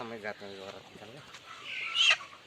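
Hens brought home in a bag cluck nearby, a brief fowl call rising after a person's speech.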